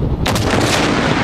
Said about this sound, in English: the first time in the history of Mythbusters that we've ever shot an RPG